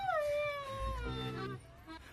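A dog gives a high, wavering whimper that slides downward into a soft, drawn-out whine, faint and close, with no talk over it.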